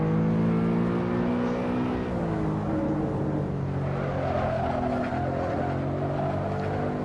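A BMW E92 M3 in the racing game Assetto Corsa slides through a corner, the engine droning steadily at high revs while the tires scrub and hiss across the track, continuous and loud with no talking.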